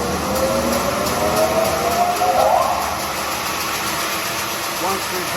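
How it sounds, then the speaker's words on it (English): A horizontal bandsaw mill's electric motor runs steadily at full speed with a constant hum and whine. A rising tone settles partway through, and a person talks over the motor. "you hear the motor running at full speed"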